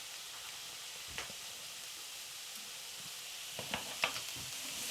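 Garlic paste hisses and sizzles steadily in a hot pan while a Bolognese sauce is being made, a constant bright frying crackle with a few soft stirring knocks toward the end.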